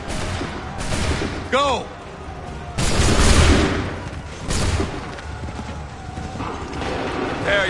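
Musket volleys in Assassin's Creed 3, several broad crackling bursts going off in sequence amid mechanical clicks and battle din, with shouted commands over them.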